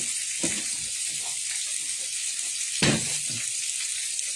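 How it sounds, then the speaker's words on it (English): Steady hissing sizzle of food frying in a pan, with a few clinks and scrapes of utensils over the constant crackle. "I can hear it sizzling the way I want it."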